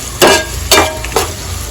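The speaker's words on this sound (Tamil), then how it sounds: "ஸோ இந்த ஆனியன் சாம்பார் வெங்காயம் நல்லா வதங்கணும்" Small sambar onions being sautéed in a pan, with three distinct stirring scrapes, a spatula working through sizzling onions, spaced about half a second apart over a faint background frying hiss.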